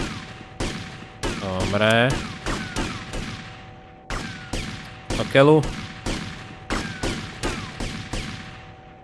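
Gunfire in GTA Vice City, a string of sharp shots at uneven intervals with someone speaking briefly over them and a steady electronic hum underneath.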